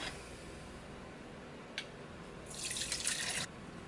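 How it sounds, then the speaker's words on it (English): Ginger syrup drips through a fine strainer, a soft quiet trickle building into a brief, brighter run of liquid near the end, with no voices. "Let that sit for a minute just to drip down."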